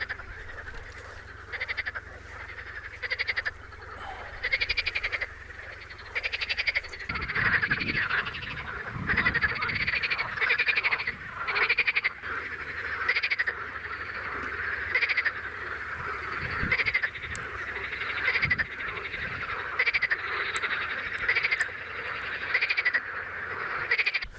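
Frogs croak in a swamp, a chorus of rhythmic, repeated pulses pressing on steadily, with a low rumble underneath and occasional louder calls standing out close by.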